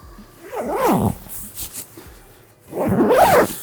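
The zipper of a Sea to Summit Spark Pro down sleeping bag is pulled in two long, rasping strokes separated by a short pause, close by and fairly loud.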